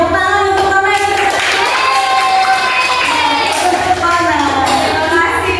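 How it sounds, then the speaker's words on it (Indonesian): Students in a classroom clap and cheer for a classmate named Rama, an energetic burst of applause with children's shouts and voices mixed in, loud and close throughout. "tepuk tangan untuk Rama yang sudah"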